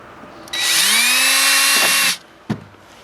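A power drill bores tiny drainage holes, with a loud, high whine of about a second and a half that winds down, followed by a short clunk.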